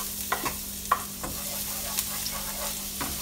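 Garlic sautés in hot oil in a pan for a ragu or bolognese sauce, giving a soft, steady sizzle with a low hum beneath and scattered clicks of stirring against the pan.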